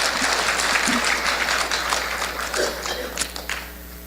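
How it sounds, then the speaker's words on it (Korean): An audience at a teachers' seminar claps in a lively burst that thins out and fades toward the end. "박수 하실 거예요? 제대로."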